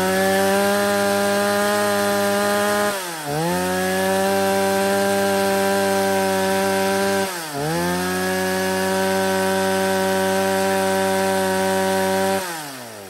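A stock STIHL 170 chainsaw runs at a loud, steady high whine while cutting wood. Its pitch sags twice, briefly, as it bites, and then it recovers.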